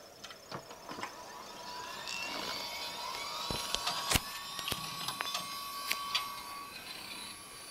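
A Dell OptiPlex GX110 desktop computer powers on with a faint steady fan whir, scattered clicks and ticks, and a few brief high electronic tones, all quiet and close.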